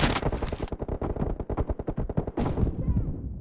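Rapid automatic gunfire in a shooter video game, dense and loud with continuous bursts of shots close up, filling the whole moment with little else audible.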